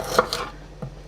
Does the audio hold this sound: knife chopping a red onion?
yes